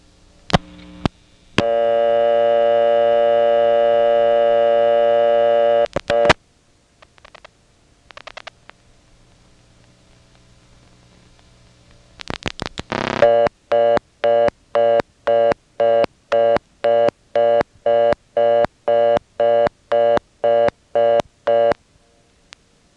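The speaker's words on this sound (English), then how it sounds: "I picked up the phone and flashed a 2. I heard the first selector cut in" A step-by-step telephone exchange in Nantes, Quebec: sharp switching clicks, a long steady call tone lasting several seconds, more clicks and relay chatter, then a loud regular series of short repeated tone bursts.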